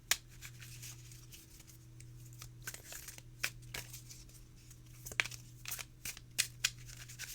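Aquarian Tarot card deck being shuffled and cut by hand, giving a run of crisp riffling flutters and sharp snapping clicks over a steady low hum, with no talking.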